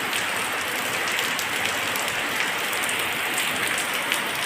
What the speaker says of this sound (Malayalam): നല്ല മഴയാണ് പെയ്യുന്നത്